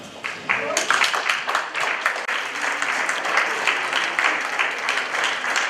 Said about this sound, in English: we stand up to give a round of applause to our players